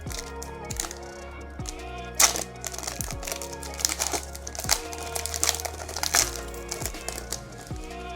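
Foil wrapping on an Upper Deck Space Jam trading card pack crinkles and tears close up, with rapid, uneven rustling and sharp crackles continuing throughout, and no talking.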